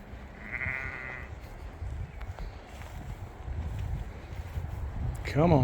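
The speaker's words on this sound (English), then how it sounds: "I've accidentally ended up herding sheep." Sheep in an open field bleat in a short call early on, then a few more cries near the end over steady wind and the rustle of movement, with a person walking among the flock.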